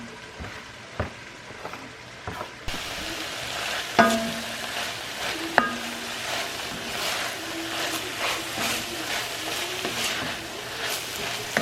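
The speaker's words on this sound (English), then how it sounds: "We're just going to stir this around and cook it down until everything is well combined" Swiss chard filling sautés in a pan, quiet clinks first, then a sudden rise into steady sizzling with spoon scrapes and knocks as it is stirred, near and fairly loud, with no talking.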